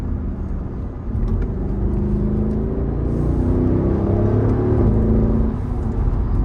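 A Mercedes-Benz SL63 AMG accelerates with a deep, steady engine rumble that swells and rises in pitch over several seconds, heard from inside or close by with no talking.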